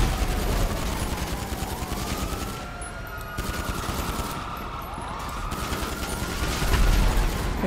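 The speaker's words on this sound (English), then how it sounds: "now they're shooting" Police gunfire in GTA 5 Online, rapid bursts of shots crackling continuously while wailing sirens sweep up and down in the background, loud and busy throughout.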